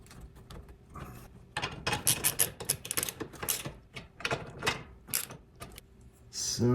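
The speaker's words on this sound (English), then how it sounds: "The next step is to fasten the intermediate bearings to the frame using these M8 bolts" A ratchet clicks in quick bursts while tightening M8 bolts on the intermediate bearings of the cardan shaft on a 1990 VW Golf Country, with short rapid rattles and pauses in between, close and fairly loud.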